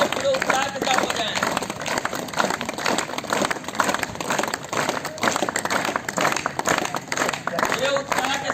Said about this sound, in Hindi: पूरे ऊर्जा के साथ बजाएं।